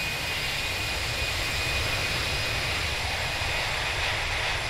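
In a flight simulator, the CFM engines of an Airbus A319 spool into reverse thrust after touchdown, giving a loud, steady jet roar with a thin high whine that holds through the whole rollout.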